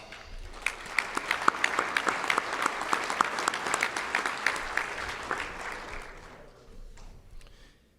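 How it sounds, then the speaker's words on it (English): A crowd gives a round of applause at the 2022 USSSA Hall of Fame induction ceremony, a loud sustained wave of many clapping hands with sharp individual claps standing out, swelling then tapering off near the end. "I'd like to give a round of applause for the 2020 USSSA Hall of Fame class"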